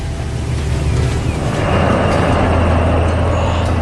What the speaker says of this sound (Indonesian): Lihatlah kereta uap itu melaju dengan anggun membelah pemandangan desa yang tenang.